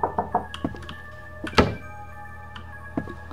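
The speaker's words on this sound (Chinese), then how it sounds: "有人在敲门诶" Knocking on a door in a horror video game about ordering pizza: a series of dull thuds in an uneven cluster, then one heavier bang, followed by a few sparser knocks over a faint electronic hum.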